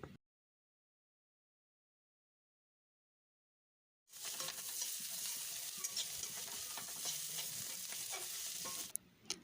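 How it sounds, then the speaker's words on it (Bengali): Potatoes frying in a home kitchen, a steady loud sizzle that cuts in after several seconds of silence and continues with stirring scrapes before stopping abruptly near the end. "ওইদিকে আলু ভাজাটা হচ্ছে"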